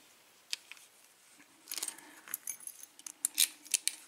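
A ring of keys sent along with a package of challenge locks jingles in short, irregular clusters of small metallic clinks, close and fairly quiet, with no voices.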